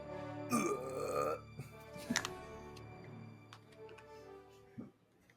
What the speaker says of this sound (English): lets out a wet burp